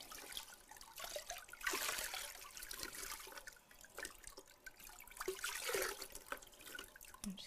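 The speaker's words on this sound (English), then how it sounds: "we're going to do a cold pour on where the feet were in the bucket" Ice-cold water poured over feet in a bucket during a home foot-bath treatment: soft, uneven splashing and trickling in bursts, fairly quiet and close, with no talking.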